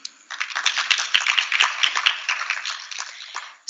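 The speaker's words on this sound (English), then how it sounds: "Let's clap for him." Conference audience applauds a presenter at a law school annual conference, a dense burst of many hands clapping that swells quickly, holds for a few seconds, then tapers off.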